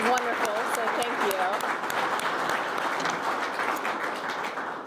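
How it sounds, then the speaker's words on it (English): An audience applauds veterans and serving members in uniform at a USS Cincinnati announcement event, a steady round of clapping that fades slightly, with voices audible during it. "So applause to you and your uniform today."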